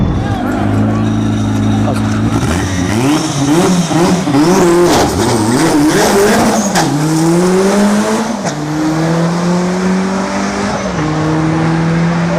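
Drag race car tires spinning hard on a concrete quarter-mile launch, a loud sustained engine roar with pitch rising and falling as the wheels break loose, with voices talking over it.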